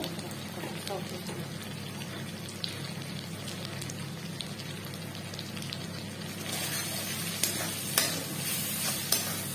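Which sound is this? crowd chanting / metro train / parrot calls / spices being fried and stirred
spices being fried and stirred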